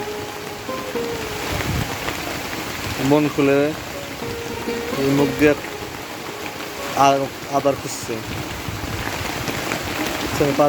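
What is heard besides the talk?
heavy rain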